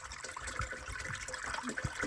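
Water pouring and splashing into a sprayer tank, an uneven gurgling stream with small bubbly surges, moderately quiet.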